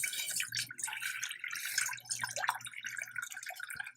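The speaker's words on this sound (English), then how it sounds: "I'm going to put 3 cups of ice water in here" Ice water, three cups of it, poured into a very small pan resting on an induction cooktop, giving a steady splashing, trickling stream that runs the whole time at moderate level, with no voices over it.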